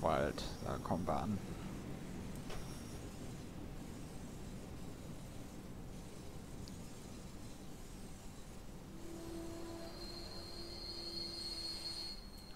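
RB36 regional train arriving at Marienwald station, track 1, in Train Simulator 2019, a steady rolling rumble with a brief squeal and a long sustained brake tone as it slows, with someone talking near the start.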